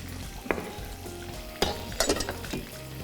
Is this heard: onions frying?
yes